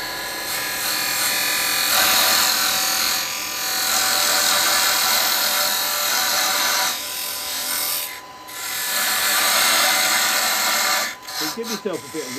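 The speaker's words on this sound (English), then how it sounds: "I'm going to come in a little bit with a parting tool" A steady rasping, scraping hiss of a parting tool cutting a wooden goblet spinning on a wood lathe, continuous and fairly loud, with brief dips and a few clicks near the end.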